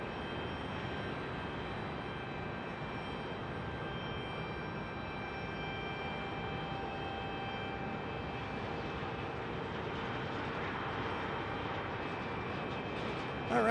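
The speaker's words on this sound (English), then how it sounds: "this is our San Diego repositioning flight, an A321 from San Diego" An Airbus A321 at Phoenix Sky Harbor Airport holds a steady, moderately distant engine roar that swells slightly toward the end, with no voices.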